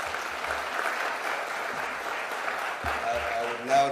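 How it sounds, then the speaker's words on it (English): A State House audience in Nairobi applauds the President at the signing of the affordable housing bill. The clapping is dense and steady for about four seconds, with crowd murmur beneath it, and it thins slightly toward the end. "One more round of applause, please."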